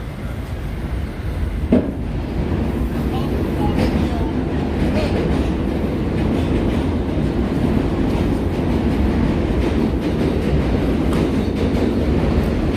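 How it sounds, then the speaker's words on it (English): A New York City subway train rumbles past just below Broadway between West 35th and 36th Streets, a loud, continuous low roar with faint rhythmic clatter that holds steady throughout. "We hear subway below us."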